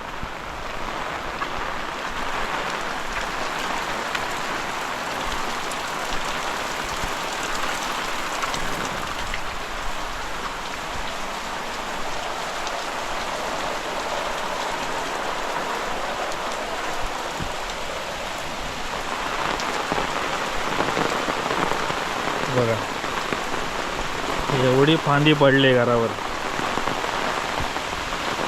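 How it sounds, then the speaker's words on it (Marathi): Heavy monsoon rain pouring down steadily on a Konkan village house, a dense continuous hiss throughout, with a voice briefly speaking near the end. "एकदम जोरदार असा पाऊस पडतोय गावी"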